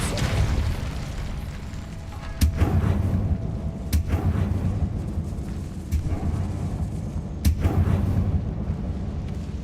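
Repeated force-spell blasts from Hogwarts Legacy combat, with several sharp booming impacts spaced a few seconds apart over a continuous low, rumbling battle bed.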